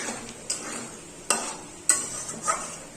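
Chhatu mushrooms get stirred with masala in a pan, giving several sharp scrapes and clinks of a spoon at irregular intervals over a soft sizzle, close and fairly quiet, with no talking.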